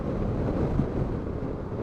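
Wind buffets the microphone while a Yamaha Tracer 900 motorcycle is ridden along a road, giving a loud, continuous low roar and rumble that covers everything else.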